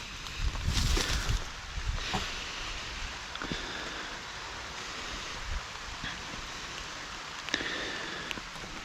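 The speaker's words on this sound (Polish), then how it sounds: "nie myślałem, że będzie tak lało" Heavy rain falls steadily in a garden at the start of summer, a dense continuous patter and hiss with a few louder nearby drops and splashes and no voices.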